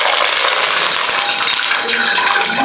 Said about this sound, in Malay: saya nak tumis ni dulu. Daun kari dan bay leaf.